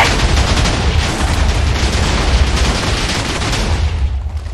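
Loud, dense rumbling explosion noise from Minecraft during a Lucky Block race, a continuous roar of blasts and crackling lasting several seconds with no talking.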